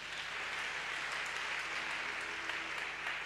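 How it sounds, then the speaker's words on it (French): A church congregation claps steadily and evenly in a sustained round of applause, heard at moderate distance with no clear voices. "Acclame Jésus-Christ."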